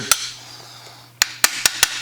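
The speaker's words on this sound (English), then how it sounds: "tapping those high spots down, and really focus on keeping that hammer face flat" Sharp metallic hammer taps on a dented magazine tube, the hammer face kept flat against high spots: one early strike, a pause, then five quick evenly spaced taps, close and clear with no talk.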